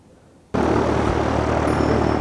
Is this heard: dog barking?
no